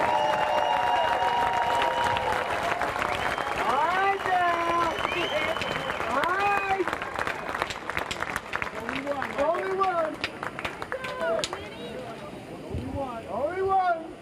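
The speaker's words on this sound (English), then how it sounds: "Let's give all of these outstanding student athletes, coaches, and staff a round of applause." At the NCAA Division III women's lacrosse championship, a stadium crowd applauds the student athletes, coaches and staff with steady clapping under a loud announcer and scattered whoops, the applause thinning somewhat toward the end.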